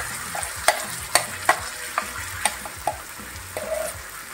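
Onion sautés in a pan with a blended paste, giving a soft steady sizzle broken by sharp clicks of a utensil stirring and scraping, close and fairly quiet, with no voices.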